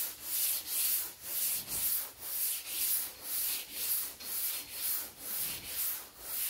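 A sanding block is worked by hand over PPG CRE321 high-build epoxy primer on a Cadillac Coupe DeVille body panel, giving a steady rhythmic rasp of even back-and-forth strokes, about two per second, close and alone.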